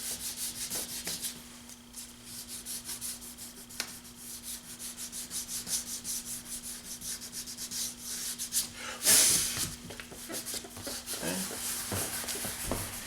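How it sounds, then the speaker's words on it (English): Sandpaper worked lightly over a leather surface during a repair, a soft, continuous rhythmic rubbing with short strokes, close and fairly quiet, with one brief louder scrape near the end. "we're just going to massage the sandpaper into the surface, not really pressing too hard"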